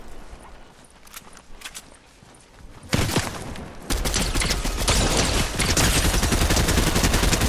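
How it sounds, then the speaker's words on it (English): Gunfire close by in Fortnite, first a few scattered cracks, then a loud sustained burst of rapid, overlapping shots that grows more intense and stays near. "Other shots next to me."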